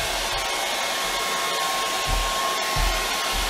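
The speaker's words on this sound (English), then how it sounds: "Again, hair dryer." A hair dryer blows steadily and loudly throughout, drying quick-dry varnish on an acrylic and charcoal painting, a constant whooshing motor hum with a faint high whine.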